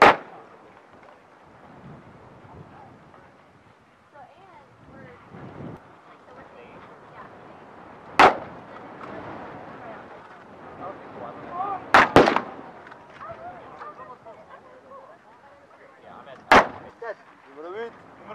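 Rifle shots fired from the prone position at long-range targets on an outdoor range, four sharp reports spaced several seconds apart over wind noise and a voice talking in between.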